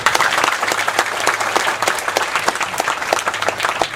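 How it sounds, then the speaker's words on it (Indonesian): A large audience at a Maiyahan gathering applauds loudly and continuously, dense clapping from many hands filling the space without any speech. "Bertepuk tangan dengan penuh cinta dan salut yang setinggi-tingginya."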